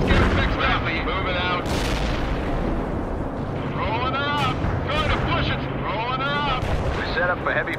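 Artillery in the real-time strategy game World in Conflict fires in a barrage of deep, rolling booms and cracks that continue under repeated spoken voice lines.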